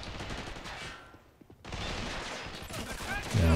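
Rapid gunfire in a World War II strategy game battle with Owen guns and rifles, dense bursts of automatic fire and scattered shots, loud and continuous with a brief lull midway.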